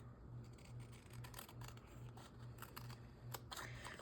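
Scissors trimming paper for a junk journal page, a run of quick, evenly spaced snips close by and moderately loud, with no talking.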